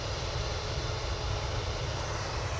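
An EasyJet airliner departs Manchester Airport, its engines giving a steady, broad roar that holds evenly for the whole stretch with no talk over it.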